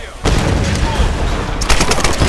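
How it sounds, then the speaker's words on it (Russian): Explosions in the video game Tomb Raider (2013) burst out as loud, dense rumbling blasts with crackling gunfire-like bursts, one big boom followed by a second sharp hit, filling the short stretch without pause. "Ну и взрывы у нас здесь"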